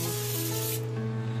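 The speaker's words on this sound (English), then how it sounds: "I'm going to spray this so that way it doesn't stick on here." Cooking spray hisses from a can onto a pan over an outdoor wood-burning grill, a steady close, loud burst that cuts off partway through.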